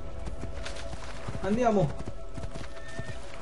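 A horse gallops in Assassin's Creed 2, with rhythmic hoof clip-clops throughout and a brief neigh midway, while someone talks over the game sound.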